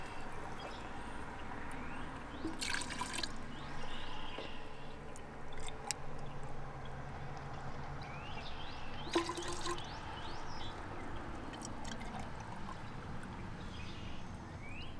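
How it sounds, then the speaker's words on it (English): Water pours and trickles steadily into a test tube holding film developer, with light splashing and a few dripping sounds throughout, no talking. "Pour the water in here to make sure I'm getting all the developer is still left in the test tube"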